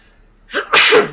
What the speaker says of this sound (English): That's the problem with live streams. You can't edit out sneezes.